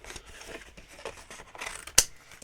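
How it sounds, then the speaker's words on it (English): Quiet rustling of scissors working through thick watercolour cardstock, ending in one sharp snip. "So now I'm going to cut this out using my scissors."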